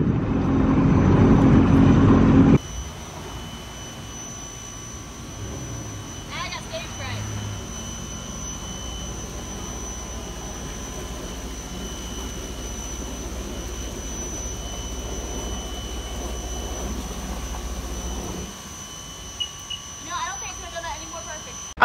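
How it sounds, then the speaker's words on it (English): A jet ski engine hums at low idle while being eased up to a lake dock, a steady drone lasting most of the stretch after a louder opening burst, then cutting off, with a few faint clicks near the end. "now we have to head back to the dock and I have to park the jet ski"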